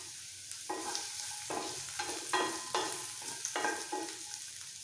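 Garlic cloves, sliced ginger, roughly chopped onion and green chillies sauté in a pan, with a soft continuous sizzle and a few quiet scrapes of stirring at a steady pace.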